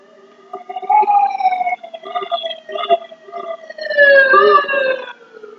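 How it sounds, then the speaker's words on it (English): Emergency vehicle sirens wail outside, with rising and falling tones that come in repeated bursts and swell loudest near the end. "I swear, I am hearing the strangest sirens."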